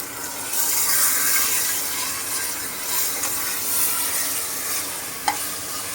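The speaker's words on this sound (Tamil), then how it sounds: "ஒரு ஃபைவ் செகண்ட்ஸ் நல்லா கலக்கிட்டு" Marinated chicken being stirred into browned onions in a pan for a chicken gravy, giving a steady sizzle and scraping stir throughout, close and fairly loud, with a single sharp clink near the end and no talking.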